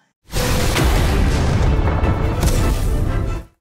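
A magical explosion in an anime fight scene bursts into a dense, roaring boom that holds loud and steady for about three seconds before cutting off.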